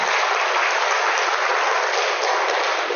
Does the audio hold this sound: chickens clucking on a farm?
no